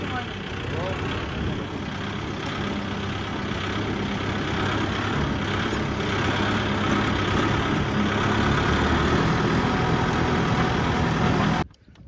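A modified tractor's engine runs with a loud, steady, heavy rumble for about twelve seconds, voices calling out over it, before it cuts off abruptly.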